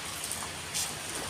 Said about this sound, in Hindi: बारिश हो रही है, बारिश में गाड़ी चलाने का अलग ही मज़ा है।